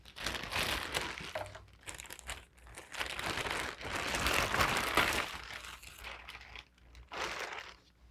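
Plastic bag from a Scotts Professional Sprayer package crinkling as it is opened, close-up, in irregular bursts of rustling and crackling with short pauses between them.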